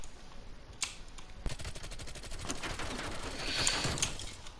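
Gunfire in Call of Duty Cold War, played on keyboard and mouse: a couple of single shots, then a rapid burst of automatic fire with steady repeating cracks, loud and close.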